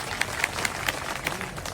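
A small crowd at a village protest in India claps sparsely in scattered, distinct claps, fairly faint and brief, with no talk over them.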